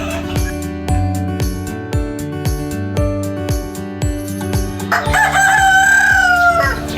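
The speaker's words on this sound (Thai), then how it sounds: "นี่มีไก่น่ารักน่ารักด้วยเห็นไหม ไก่ ชิลกี้อเมริกา นะน่ารักนะ" Chickens at a Thai farm garden with ornamental breeds including American Silkie chickens, crowing loudly near the microphone over a rhythmic low background, with a strong drawn-out crow standing out toward the end.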